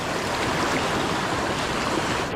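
Loud, constant roar of a rushing river in Konkan during the monsoon, dense and close, with no voices over it.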